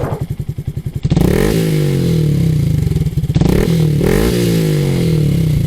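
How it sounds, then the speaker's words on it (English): A 2026 Honda Grom with an Akrapovic exhaust and 5,000 miles on it, loud and close. It runs at a lumpy, pulsing idle, broken by two quick throttle blips that rise and fall back to idle. "That's at idle with the Akrapovic exhaust."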